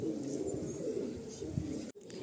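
Pigeons in a breeder loft coo in a continuous, close, low murmur, with several birds overlapping until a brief break near the end.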